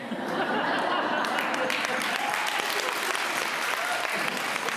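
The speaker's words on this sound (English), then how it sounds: "The only place you can get applause for being old." A crowd at a formal awards induction ceremony gives sustained, loud applause mixed with some chuckling and laughter, steady throughout with a voice partly audible beneath.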